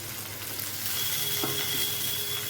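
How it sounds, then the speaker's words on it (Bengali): A soft, steady sizzle of cashews and melon seeds frying in a pan, quiet and continuous with no voices. "এখন সবগুলো দিয়ে খুব সুন্দর করে ভাজা ভাজা করে নেব"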